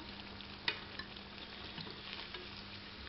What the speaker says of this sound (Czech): Smažíme druhou stranu.